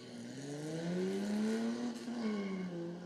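A Jaguar Mark 7 race car engine climbs in pitch as it accelerates past nearby at the Rob Roy Revival 2025, a loud throaty rising drone that dips and rises again.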